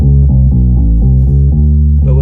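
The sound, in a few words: unprocessed bass guitar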